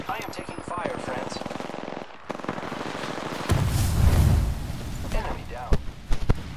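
Video game gunfire, bursts of rapid automatic shots and sharp single shots mixed with explosions, heard under ongoing talk from players.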